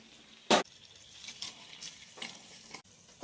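Water poured into a pan of frying ginger chutney mixture with tomatoes and jaggery for pesarattu, giving a brief loud splash and hiss followed by softer stirring scrapes and a low simmering sizzle.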